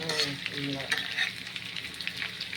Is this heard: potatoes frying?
yes